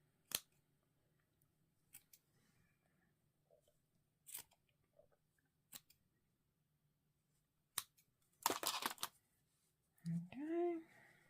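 Scissors snip thread dangles for journals in quiet, scattered single cuts, with a louder rustling burst near the end and a brief vocal sound after it.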